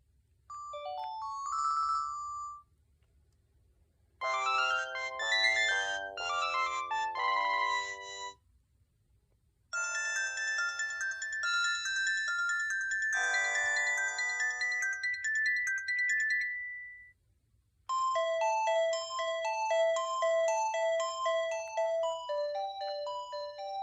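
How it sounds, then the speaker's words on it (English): A series of different electronic telephone ringtones, each a bright melodic chirping pattern, playing one after another with short silent gaps between them. "that's a really unusual assortment of ringtones."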